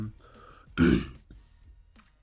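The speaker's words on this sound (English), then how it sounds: "Still trying to shake the last of this cough." A single short, rough cough or throat-clearing bursts out close by, brief and isolated in a quiet room.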